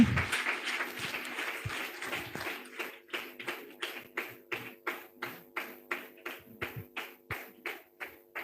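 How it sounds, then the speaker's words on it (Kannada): An audience at a Bible quiz gift distribution applauds a pastor. A burst of scattered, fairly close clapping quickly settles into slow, evenly spaced unison claps that keep a steady beat to the end. "ಸೊ ಅವ್ರು ಬರುವಾಗ ಜೋರಾದ ಚಪ್ಪಾಳೆ ತಟ್ಟೋಣ"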